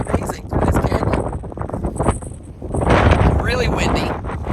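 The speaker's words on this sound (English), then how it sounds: "it's really windy here" Strong wind in a canyon buffets the microphone in heavy rumbling gusts while a person talks over it.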